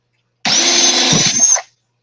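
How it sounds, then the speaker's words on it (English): A power drill bores holes for an aquaponics T-siphon, one loud, steady burst of about a second and a quarter with a faint drop in pitch near the end, then it cuts off. "while I'm drilling these and everything"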